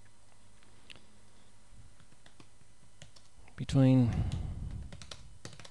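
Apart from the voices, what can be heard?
typing on a computer keyboard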